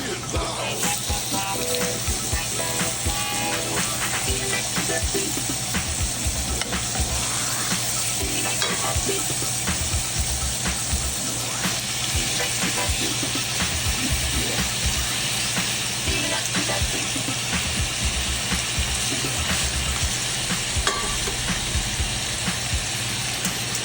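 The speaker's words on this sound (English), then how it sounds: "in the skillet, I put some extra virgin olive oil. I put it on medium high, and I'm gonna take each one of these and I'm gonna brown each side" Meat browning in extra virgin olive oil in a skillet over medium-high heat, a steady dense sizzle and spatter running the whole time, close and loud, with occasional clinks and stirring.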